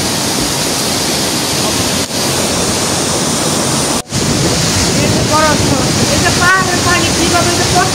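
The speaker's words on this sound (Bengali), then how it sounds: "পাহাড়ের পানি কিভাবে যে পড়তেছে" Mountain water pouring down at a waterfall by Lake Garda in Italy, a loud, constant roar of rushing water mixed with wind buffeting the microphone, nearby and unbroken.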